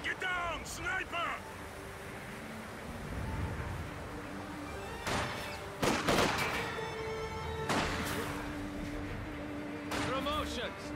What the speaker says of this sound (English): Enemy infantry firing on me.